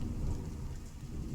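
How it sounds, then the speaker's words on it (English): Steady rain pours in the open world of the video game The Division 2, a dense, even hiss with a low rumble underneath, continuous and fairly close, with no voices. "Great job with the rain."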